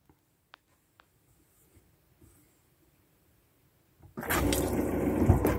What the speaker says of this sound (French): La pompe à eau, l'eau qui avait gelé